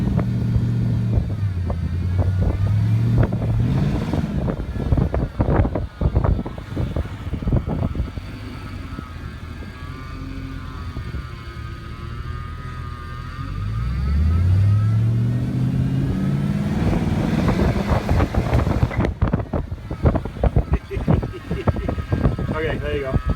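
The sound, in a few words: 1969 Ford F250 engine running and revving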